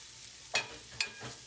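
Onions and garlic sizzling in a pan, with two crisp stirring scrapes over a steady soft frying hiss, close and fairly quiet.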